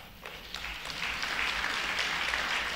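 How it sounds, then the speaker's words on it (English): An audience gives a round of applause at an evening gathering, a steady wash of clapping that swells after the first second and holds loud and continuous, with no talking over it. "I think you all deserve a round of applause for that."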